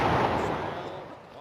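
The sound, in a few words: ship's port cannons firing in video game New Horizons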